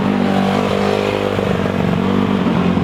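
An engine revs hard and loud, a dense harmonic drone with rising and falling pitch over rough clatter, close and continuous with no pauses.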